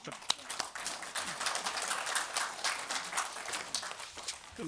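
Members at a general assembly of a regional community association applaud the chair. The clapping is scattered and fairly quiet, with sharp individual claps in a large room, and talk runs over it.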